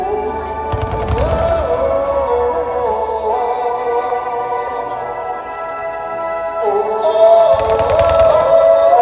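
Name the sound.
fireworks at Chigasaki fireworks festival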